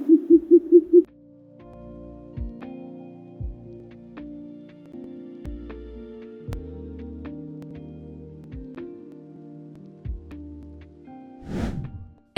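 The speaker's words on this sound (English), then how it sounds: "Short-eared owl." Short-eared owl calling, a quick run of about five hoarse hoots at the start, then quiet with scattered soft knocks and tones and a brief rustling burst near the end.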